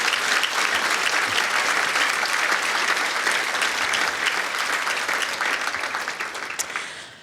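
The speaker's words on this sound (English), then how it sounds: "Give everybody a round of applause." A business hall of fame audience gives a dense, continuous round of applause that holds strong for several seconds before tapering off and fading out at the end.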